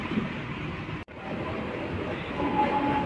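A new air-conditioned local train in Chennai pulls away at the start of its journey, giving a steady, close rumble of rail and carriage noise that briefly cuts out for a moment and then builds slightly louder.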